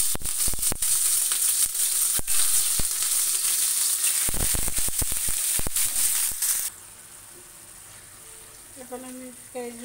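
Onion and garlic paste sizzles and fries in hot soybean oil, a dense steady crackle with sharp spattering pops that drops to a quieter simmer partway through, with a few faint tonal sounds near the end.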